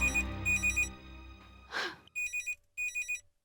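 A telephone rings in a quiet room, with two clear ring bursts, then a brief rustle and two more rings in a steady electronic pattern, close and alone.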